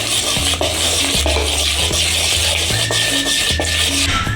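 Rava dhokla batter is stirred steadily in a bowl, a loud, close scraping and swishing that repeats in regular strokes under a constant broadband rush, with no talk.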